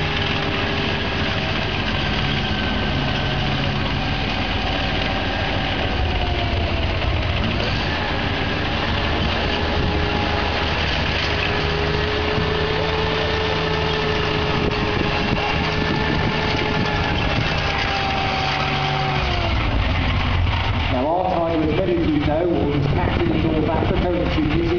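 A German Tiger tank's heavy engine runs at Bovington Tank Museum, rumbling loudly and steadily with shifting revs and a rising whine, then changing pitch near the end.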